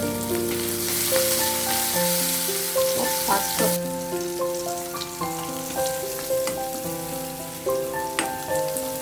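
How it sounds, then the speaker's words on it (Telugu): Onion, fenugreek, garlic and spices fry in hot oil for a tempering, giving a steady crackling sizzle with a melodic tune playing over it. "పోపు చేసుకున్నాం"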